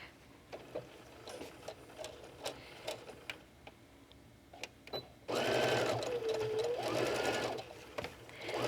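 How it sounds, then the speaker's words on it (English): A sewing machine top stitches a fabric fish-shaped beach bag with a slightly longer stitch length. Scattered clicks and short bursts come first, then a steady, close, loud stretch of machine stitching about three seconds long, with no talk. "Just top stitch right down here."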